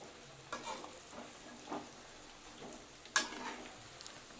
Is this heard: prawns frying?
yes